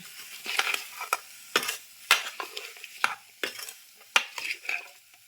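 Repeated scraping and clinking of a spatula stirring mixed vegetables, including brinjal, in a pan, irregular strokes close up over a soft sizzle.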